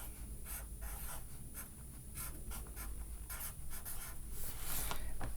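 Chalk or marker scratches across a board in a math lesson, quick repeated strokes in short bursts, faint and close, with no talk over them.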